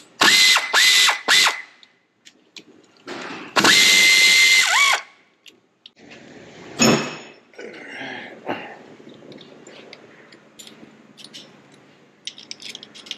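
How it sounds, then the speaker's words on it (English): An air ratchet works the T55 bolts on the drive shaft of a 2023 AWD Mercedes-Benz, letting out several loud, buzzing bursts up close, then quieter clinks and tool clatter. "I'm gonna go ahead and use a ratchet wrench,"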